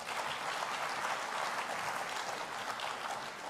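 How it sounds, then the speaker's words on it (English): A large audience at the 31st Afreximbank Annual Meeting gives a round of applause, with full, continuous clapping that stays even and loud throughout. "let's give him another round of applause."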